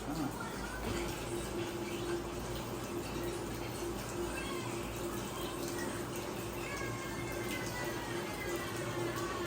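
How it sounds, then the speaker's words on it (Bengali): Fresh mint leaves rinsed in water for detox water, with a steady, faint splashing and running-water wash that continues throughout, while a person talks in the background. "পুদিনা পাতা ভালো করে ধুয়ে নিব"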